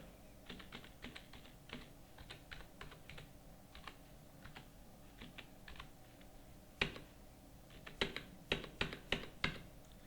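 Keys clatter on a computer keyboard while accounting entries are typed in, a soft steady patter of quick taps that turns into a few louder, sharper keystrokes near the end, close by and with no one talking.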